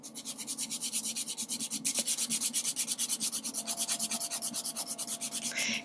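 A nail file rasps back and forth across a fingernail to remove semi-permanent glitter nail polish, making a fast, even rhythm of close, loud scratchy strokes that continues steadily.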